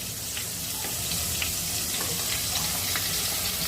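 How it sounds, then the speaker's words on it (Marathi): Mashed sweet potato dropped into hot ghee gives a steady, close sizzle throughout, an even frying hiss with faint crackles and no talking. "गरम झालं की मॅश केलेले रताळू टाकायचे"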